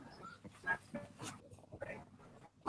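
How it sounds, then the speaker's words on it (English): A dog barks in another room during a home interview, short faint yips and woofs scattered across a few seconds, distant and soft under low room noise. "My dog is barking."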